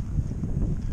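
Low, rumbling wind buffets the microphone on a cold ride in Jasper National Park, Canada, a steady blustery roar with no voices.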